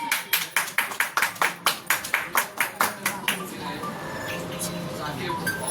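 Evenly spaced, loud hand claps in a quick steady rhythm at a family celebration for a new doctor, fading into softer scattered claps and background murmur.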